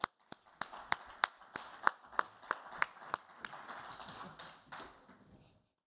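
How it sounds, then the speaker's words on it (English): Panelists walk onstage at an NFT London panel on sports experiences, greeted by slow, sharp claps. About fifteen distinct claps come at a steady rhythm and fade away toward the end, sounding sparse rather than like a full crowd. "Round of applause, everyone."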